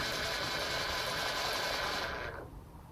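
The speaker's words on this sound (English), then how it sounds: "We'll flick the point motor and just see if the other one does come on" An N gauge model railway point motor switching on a control panel gives a steady, close mechanical buzz for about two seconds that then cuts off abruptly, leaving near silence.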